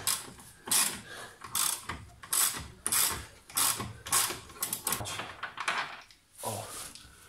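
A wrench ratchets in repeated close bursts of metallic clicking while loosening a bolt during disassembly of a car's suspension, control arm and stabilizer, with short pauses between pulls.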